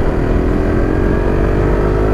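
A Suzuki GSX S150 motorcycle engine running while being ridden, a loud steady mid-pitched hum with an even rumble and no clear rise or fall in revs.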